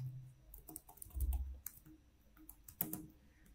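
Fingers type on a computer keyboard in quick, irregular bursts of close, crisp key clicks with short pauses between, quiet overall and with no talking.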